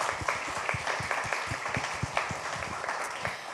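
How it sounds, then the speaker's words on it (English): A modest round of applause from an audience at a talk, steady quick claps close by with a soft crowd background. "Let's just do a round of applause for them."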